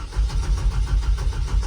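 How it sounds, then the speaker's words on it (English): An old pickup truck with a manual clutch cranks over to start, a loud, close, steady rhythmic churning of the starter and engine throughout, with no voices. "It's got a little bit of a long start, but it's not the end of the world."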